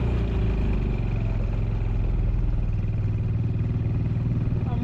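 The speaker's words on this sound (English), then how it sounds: "the engine lost so much power that even with my foot flat to the floor, it couldn't even engage the centrifugal clutch anymore" A mini jeep engine labors uphill at full throttle, losing power and unable to engage its centrifugal clutch, giving a steady, loud droning rumble with harmonic hum and clatter throughout.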